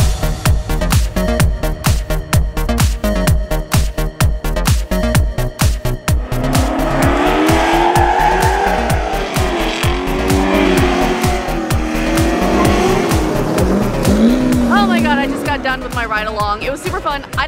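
Ride-along in a car at an auto enthusiast event: a loud, close engine revs and roars throughout, with tires squealing in long skids during hard cornering, and a voice talking over it.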